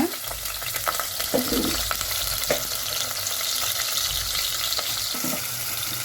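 Chopped onions for a chicken curry sizzle and fry steadily in a pan, a continuous close hiss with occasional stirring scrapes, no voices.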